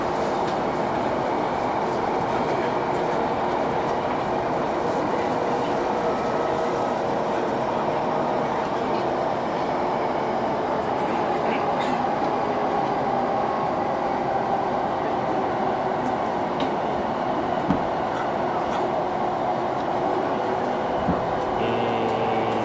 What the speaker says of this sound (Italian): Ho preso la Chuo Line per arrivare a Nakano, per arrivare a Mitaka da Nakano e ora ho preso di nuovo la Chuo Line da Mitaka